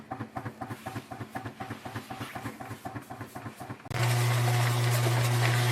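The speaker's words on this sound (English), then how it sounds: "We're going to set the bread maker to dough" Bread maker kneading pizza dough on its dough setting: a rhythmic mechanical whirring that pulses about twice a second, then shifts abruptly into a steady, louder continuous motor drone with a low hum.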